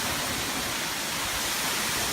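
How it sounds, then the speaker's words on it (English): A waterfall roars steadily and loudly, a dense rushing wash of falling water with no breaks, heard close up on a hiking trail. "Here's the waterfall."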